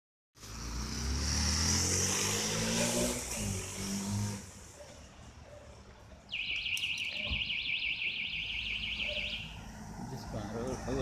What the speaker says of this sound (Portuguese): Disparou, foi o alarme.